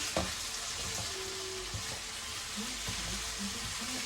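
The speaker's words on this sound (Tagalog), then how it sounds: "nagisa na ako ng bawang at saka sibuyas. At itong aking pinalambot na baka at hiniwa na din, ilalagay na po natin. Stir fry lang." Tenderized sliced beef stir-frying with garlic and onion in a hot pan gives a steady, moderate sizzle, with a few faint clinks of stirring.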